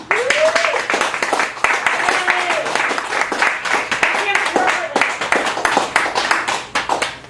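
Applause from a small audience at a poetry open mic in a Chicago café gallery, scattered close hand claps running steadily for several seconds while voices talk over them.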